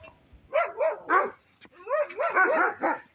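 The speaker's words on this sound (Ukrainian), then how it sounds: "Знову сусідські собаки." Neighbours' dogs bark in a garden, a close run of sharp, rapid barks and yips in two bursts with a short pause between, loud and clear with no talk over them.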